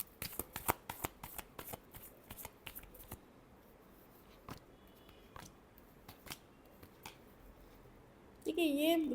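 Tarot cards being riffled and shuffled by hand, a run of quick crisp snaps and flutters that come in bursts and then thin out to sparse taps, ending in a louder stretch of voice.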